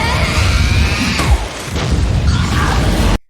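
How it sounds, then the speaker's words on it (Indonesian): Anime axe strike impact effect, a loud dense crashing boom with rumbling debris layered in a dramatic sound mix, ending abruptly in silence. "Lalu Kikoru bersiap dengan kapak Wiro Sablengnya dan duar!"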